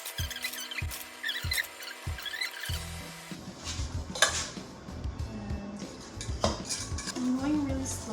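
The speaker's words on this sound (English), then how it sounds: "Now I'm going to just, I guess, flour my muffin tin." Metal clinks and rattles from handling a muffin tin while flouring it for butter tarts, with a few quick taps at first and then irregular scraping and clatter close by.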